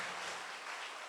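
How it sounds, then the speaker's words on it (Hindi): A congregation at a Sunday evening church service claps loudly, a brief dense wash of many hands at even volume with no voices. "क्यों ना हम परमेश्वर के लिए जोरदार ताली बजाते इस समय।"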